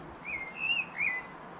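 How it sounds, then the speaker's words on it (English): A blackbird in a UK garden gives a few short, clear whistled notes, soft and somewhat distant over a quiet outdoor background. "Say hello to the blackbird."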